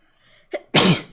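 A single loud, sharp sneeze close by, preceded by a brief quick intake of breath, indoors at a watercolor painting session.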